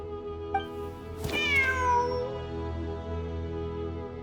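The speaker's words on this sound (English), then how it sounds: "Wait, there it is! The cat!" A cat meows in a Genshin Impact game scene, one clear drawn-out call rising then falling, heard over a steady hum of background game music.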